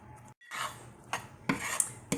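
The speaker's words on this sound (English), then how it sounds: "I'm just going to stir that around real good" A utensil stirring tofu scramble with nutritional yeast in a pan, several short scraping and clinking strokes close by after a brief pause, with no voices.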